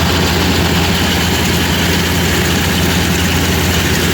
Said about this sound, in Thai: นี่ครับใช้เครื่องยนต์ทีสูบนะครับ เครื่องยนต์ทีสูบของทีสูบครับ